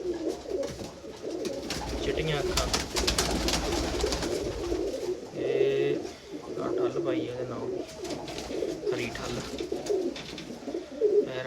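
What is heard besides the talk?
Someone's pigeons cooing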